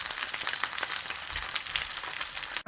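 Mâchoiron catfish braising in a frying pan, a soft continuous sizzle and crackle of oil, fairly quiet and close with no voices.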